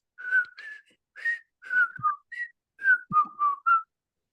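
A person whistles a short, clear tune from the Andy Griffith theme in separate bright notes with brief gaps, close and alone without other sounds.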